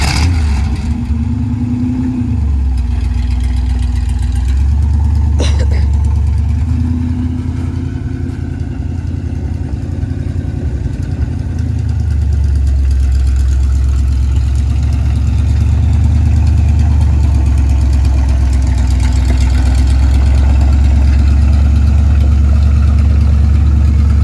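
A rat rod camper truck engine runs steadily with a flat tire, a deep continuous rumble that holds loud and even throughout, with a slight rise in pitch early on and no talking.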